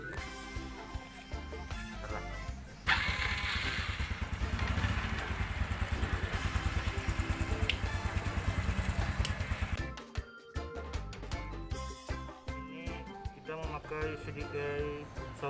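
A Suzuki Shogun 125 motorcycle engine starts up and idles with a steady, loud clattering putter for several seconds before cutting out, with quieter mechanical noise around it.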